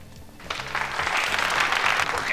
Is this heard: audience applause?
yes